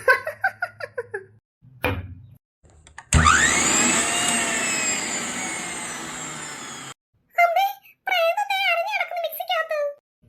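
A kitchen mixer grinder whirs loudly for about four seconds, a steady high motor drone, between stretches of lively talk and a voice before and after.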